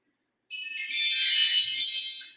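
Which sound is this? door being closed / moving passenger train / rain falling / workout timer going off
workout timer going off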